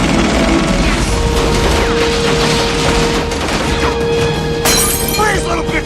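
Helicopter shootout from the 1997 action film Con Air: dense, loud bursts of automatic gunfire with shattering impacts and mechanical clatter, close and continuous, mixed with shouted voices.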